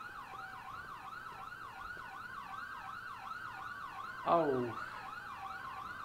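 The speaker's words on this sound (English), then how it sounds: "Seriously, that siren." A police car siren in GTA IV with the LCPDFR mod wails steadily in a fast, repeating yelp, sitting fairly far back in the mix. Near the end a brief harsh burst cuts in, and someone lets out a short exclamation.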